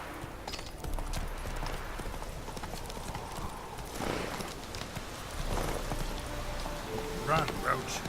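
Roach, Geralt's horse in The Witcher 3, gallops with a rapid, rhythmic clatter of hooves close by, and someone speaks over the running hoofbeats.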